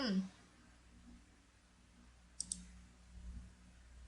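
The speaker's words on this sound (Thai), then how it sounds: "ต่อไปคลิกขวา ที่วัตถุเลือก Arrange แล้วก็เลือก Bring to" A computer mouse gives two quick, light clicks close together, standing out faintly against a quiet room background.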